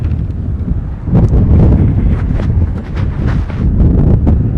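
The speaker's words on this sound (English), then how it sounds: "It is really windy." Loud, buffeting wind noise batters the microphone in gusty, rumbling bursts, with no talking.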